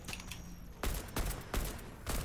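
AK assault rifle fire in the video game Fortnite comes in four short rapid bursts separated by brief pauses, sharp and fairly close.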